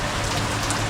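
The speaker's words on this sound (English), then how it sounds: "It's friggin' raining" Steady rain falls heavily, a dense, even hiss of drops on surfaces, loud and continuous.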